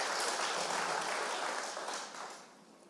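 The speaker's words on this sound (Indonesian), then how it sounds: "Tepuk tangan untuk Ibu Gembala dan anak-anak." A church congregation applauds during a Sunday service, a dense wash of clapping that holds steady and then tapers off toward the end.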